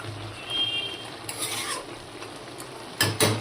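Tomatoes and peas cooking in a pan, a soft sizzle under scraping stirs, then a few sharp clatters of a spatula against the pan near the end, close up.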